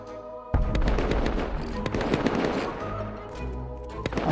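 Dense gunfire erupts during a base raid in the video game Rust, rapid overlapping automatic bursts and shots that start abruptly and keep going loud and continuous.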